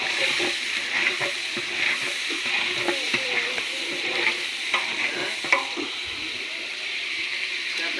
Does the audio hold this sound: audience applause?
no